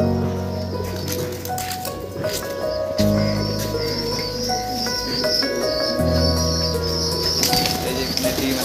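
Pigeons in a flying loft flap their wings in soft bursts and call faintly. Steady background music plays underneath.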